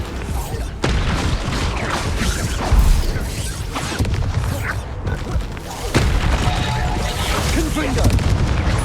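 Bombarda blasting spell explosions in Hogwarts Legacy, heavy booms and crashing impacts with rumbling debris recurring throughout, mixed with a voice speaking over the action.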